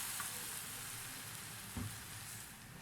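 A chicken and vegetable sandwich sizzles in a buttered pan with a soft, continuous frying hiss, fairly quiet and close, with one brief thump of handling partway through.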